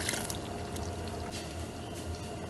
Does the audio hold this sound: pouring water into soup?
yes